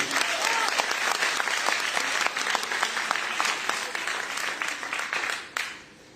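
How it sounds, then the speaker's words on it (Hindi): Audience applause at an International Women's Day celebration: many hands clapping in a brisk, continuous crowd ovation that holds steady, then thins and fades near the end. "एक बार तालियां होनी चाहिए गोवा चिवर्स के लिए।"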